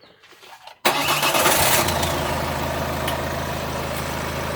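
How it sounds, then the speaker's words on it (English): A Ford car engine cranks and catches after a quiet start, then settles into a steady, loud idle with a constant low hum that continues to the end, no voices present. "Then we start the engine."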